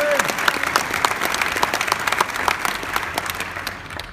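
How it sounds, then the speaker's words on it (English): Sustained applause from a large Hall of Fame ceremony audience, steady and dense for several seconds before thinning slightly at the end; a brief voice is faintly audible at the very start. "Give her a big round of applause."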